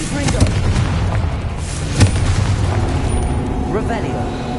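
Booming spell blasts from the Confringo curse in Hogwarts Legacy, with a sharp burst near the middle over a dense bed of game effects and battle noise.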